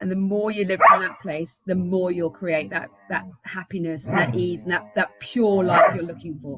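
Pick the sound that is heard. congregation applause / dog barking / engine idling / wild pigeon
dog barking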